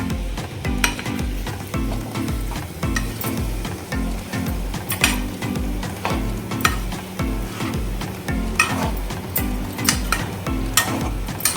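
Pieces fry in oil in a pan for a traditional Telangana curry, a constant crackling sizzle broken by regular scraping stirs of a utensil, close and fairly loud, with no voices.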